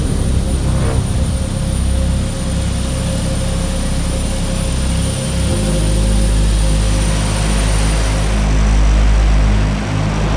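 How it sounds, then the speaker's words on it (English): A firefighting airplane roars low overhead on a water-drop run between a runway and taxiway, a steady loud engine drone that swells and deepens as it passes. "We'll get this plane in the shot with it dropping."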